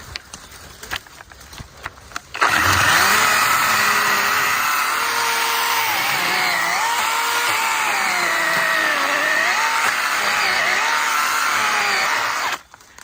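A GTM CS18/250BL cordless 18 V chainsaw with a 25 cm bar saws through wood, a loud steady whine that rises and dips in pitch as the cut loads the motor, starting after a few quiet handling noises and stopping abruptly near the end.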